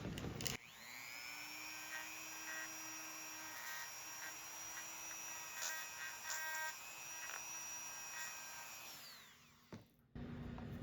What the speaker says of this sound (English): So we can just hit it with this Dremel, and that should help get it off.